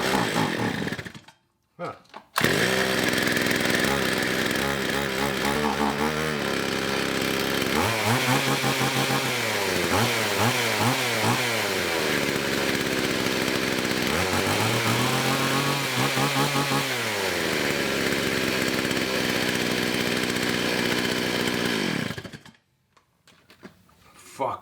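A 45-year-old small two-stroke chainsaw sputters to life after a pull and runs loudly, revving up and down repeatedly before cutting off; a brief voice is heard.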